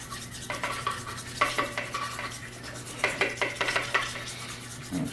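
A whisk scraping and clinking in a bowl of homemade Caesar salad dressing made with room-temperature eggs, in quick irregular bursts of stirring that run alone and fairly close for the whole stretch.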